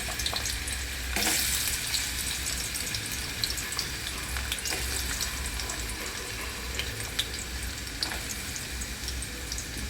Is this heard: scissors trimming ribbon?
no